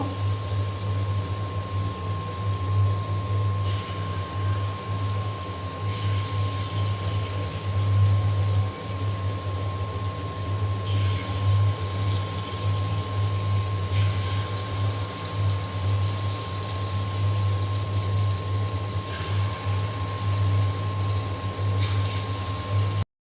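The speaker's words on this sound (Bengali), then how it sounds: "আমি এখানে যে তালের বড়া ভেজে নিচ্ছি, আমার তেল গরম হয়ে গিয়েছে।" Palm fruit fritters fry in hot oil in a home kitchen, giving a steady, dense sizzle and bubbling hiss with a low hum underneath that holds throughout without pause.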